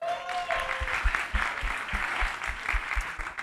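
A short burst of clapping from a small audience, steady and close, under faint background sound.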